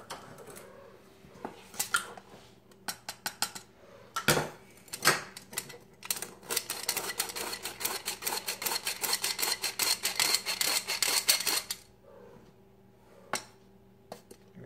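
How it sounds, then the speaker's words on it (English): A hand-cranked flour sifter working through one and a half cups of flour for a chocolate pound cake, quick rhythmic metallic clicking and rasping that builds into a dense, steady run, then trails off into a few last isolated clicks. "I'm going to sift the flour"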